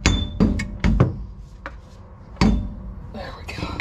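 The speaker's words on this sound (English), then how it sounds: "let's see if we can give her a little tap. This is a rubber mallet, by the way." A rubber mallet strikes a Jeep TJ rear driveshaft U-joint about six times in uneven, sharp knocks, close and fairly loud, with short quiet gaps and some metallic clinking near the end.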